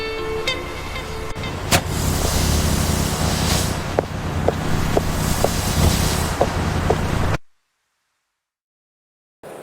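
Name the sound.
bus driving away from a stop in a cartoon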